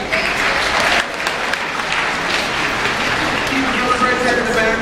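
Audience applause filling an aquarium show arena for a trainer, steady and dense throughout, with crowd noise mixed in.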